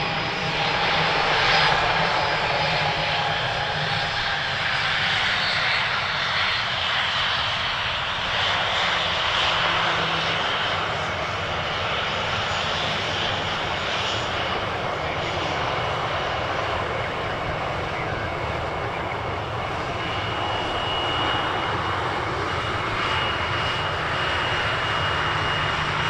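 Airliner departing as Flight 444 bound for Toronto, a loud continuous jet engine roar heard from outside, broad and sustained with slight swells in intensity over the whole stretch.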